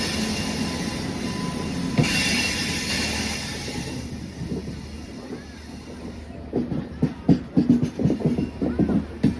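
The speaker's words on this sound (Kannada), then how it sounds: "ಟ್ರೈನ್ ಬರ್ತಾ ಇದೆ, ಎಲ್ಲಿಗೆ ಹೋಗ್ತಾ ಇದೋ ಗೊತ್ತಿಲ್ಲ" A train rolls past on a railway line with a steady roar and a wheel squeal, followed by rhythmic clickety-clack of wagons over the rail joints near the end.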